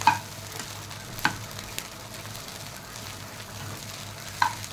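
Fish eggs fry and sizzle in a pan, a steady close crackle broken by a few sharp clinks and scrapes as they are stirred, with no talking.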